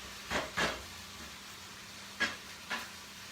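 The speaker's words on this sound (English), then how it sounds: "Brown that meat up." Ground meat browns in a pan with diced pepper and onion for a shepherd's pie, giving four short, faint bursts of hissing sizzle in two pairs, separated by quiet, with no talking.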